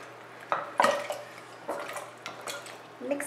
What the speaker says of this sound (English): Then I'm going to stir and stir